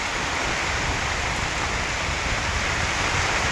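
Heavy unseasonal May rain pouring down in a steady, even hiss, dense and continuous with no voices.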